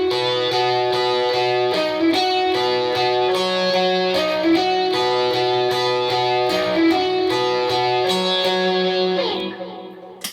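Big electric guitar riff for the worship song Now Here with full overdrive, thick sustained distorted chords and a repeating melodic line over a low drone, loud and constant, fading near the end.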